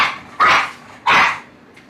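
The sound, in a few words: dogs barking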